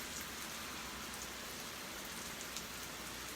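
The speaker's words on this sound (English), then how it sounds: "Can you guys hear the rain?" Steady rain falls outside, a dense, even hiss of drops on surfaces that runs unbroken and fairly quiet throughout, with no voices.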